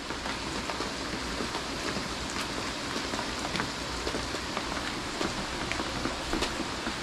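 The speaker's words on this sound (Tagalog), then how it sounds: "Lakas po ng ulan." Heavy rain pours steadily at night, a dense continuous hiss with scattered louder drops and patters striking a nearby surface, close and unbroken, with no voices.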